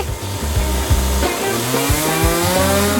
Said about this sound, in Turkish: Bir testere beni kurtaracak.